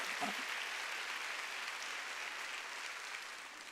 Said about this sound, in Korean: 박수 치려면 세게 쳐야 됩니다.